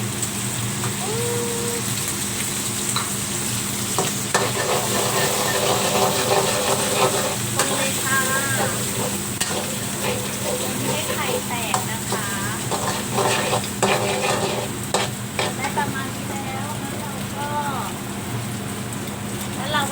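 Garlic pork stir-fried in a pan, a steady close sizzle with scraping and stirring running through the whole stretch, and a faint voice now and then underneath.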